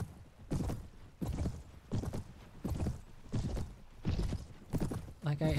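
Horse hooves clip-clopping in the Mount & Blade Warband video game, a steady galloping rhythm of repeated soft thuds, faint and low, with a brief voice near the end.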